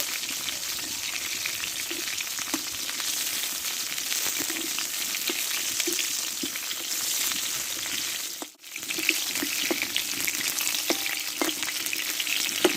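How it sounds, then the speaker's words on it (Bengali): Pointed gourd (potol) pieces frying and being stir-fried in oil for a Bengali-style recipe, a steady, close sizzle running throughout with light scraping of the spatula and a brief dip in the middle. "পটলটা একটু ভালো করে কষে নেব"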